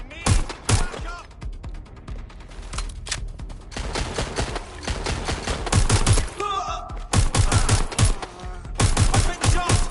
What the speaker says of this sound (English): They're shooting. Incoming fire! I need backup!